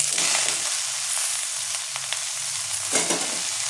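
Cabbage hits a hot pan where a fish head has been frying, giving a loud, steady sizzle with a few brief scraping stirs, close and without speech.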